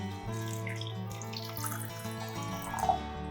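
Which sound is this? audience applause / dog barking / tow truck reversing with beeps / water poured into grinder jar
water poured into grinder jar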